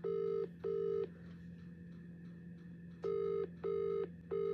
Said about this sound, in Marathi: फोन लावतोय, फोन उचलत नाहीत मित्र